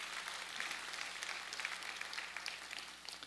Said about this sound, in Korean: 수고한 우리 학생들을 위해서 격려의 박수로 드리겠습니다